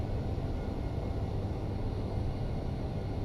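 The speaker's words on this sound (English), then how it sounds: "Reversers are out, guys" Airliner thrust reversers roaring during the landing rollout in the X-Plane 11 flight simulator, a steady, loud broadband rumble that holds evenly throughout with no talk over it.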